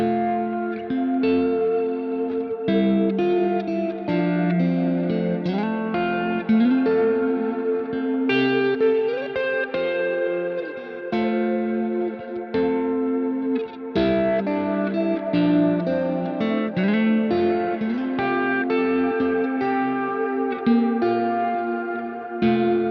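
Electric guitar reamped through a Kemper Profiler with delay, wet output only: distorted chords and sustained notes ring out loud and continuous, trailed by echoing repeats and reverb tails for over twenty seconds.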